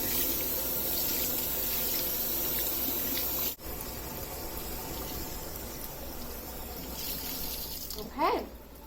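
Dyed wool roving rinsed under a running tap, with steady, close water rushing and splashing, a short break midway, then a brief louder gurgle near the end.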